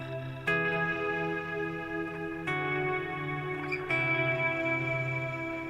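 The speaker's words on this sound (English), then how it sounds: "I went back from using the reverb and the delay to the supermassive" An electric guitar played through a Revv G120 amp with Two Notes cabinet simulation and a Valhalla Supermassive reverb and delay plugin rings out in a few sustained chords, each struck afresh and left to bloom into a long, washy, echoing tail.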